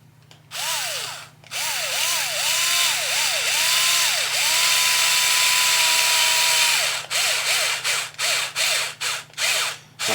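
Power driver set to its lowest torque runs fine-threaded screws into RC car axle parts for a Vanguish VS4-10 build, giving a loud whirring buzz with rising and falling pulses, then a run of short bursts as the screws seat.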